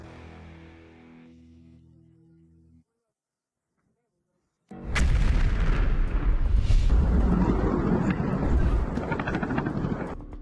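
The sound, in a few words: explosions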